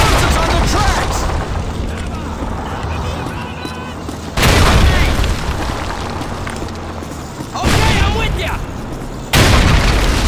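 Explosives blast the tracks of tanks during the Crossing the Rhine battle in the Call of Duty 2 video game: three heavy booms land amid steady gunfire and shouted voices, each followed by a rumbling tail.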